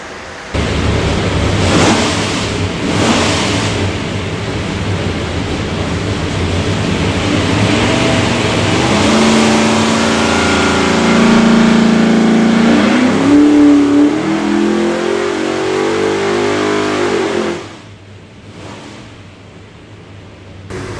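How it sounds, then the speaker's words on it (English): Loud, sustained engine roar from a 572ci all-aluminum big block Hemi with a custom-grind solid roller cam, built for a '68 Charger, pulling hard on a dyno with a rising tone through the run, then dropping off sharply near the end. "Go in there and make a run, see what she does."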